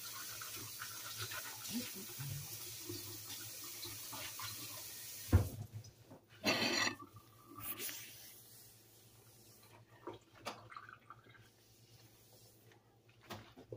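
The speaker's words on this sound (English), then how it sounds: "let me wash my hands" Running tap water splashes over hands at a sink in a home kitchen, a steady wash of water with brief louder bursts and some handling noises.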